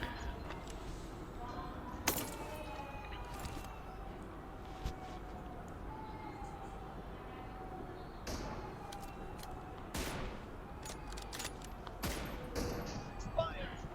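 M24 sniper rifle shots in a TDM video game match, a few sharp isolated cracks spaced seconds apart over a faint steady game background.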